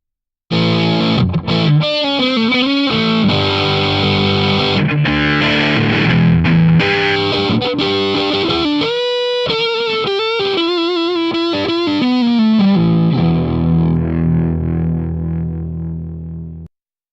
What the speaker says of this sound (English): here's how the phase sounds flipped